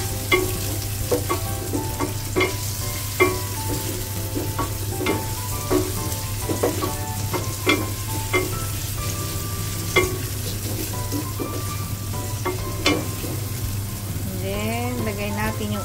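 Ginger and onion frying in a pan for congee made from leftovers, with a steady loud sizzle and repeated close spatula scrapes and taps throughout.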